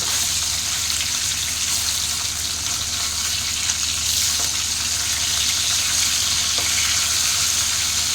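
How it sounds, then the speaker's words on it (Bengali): Hilsa fish pieces frying in oil over a low flame give off a steady, dense sizzle and hiss, close and even throughout, with a few faint clicks and no voices. "তো এখন ইলিশ মাছগুলো ভাজা হচ্ছে"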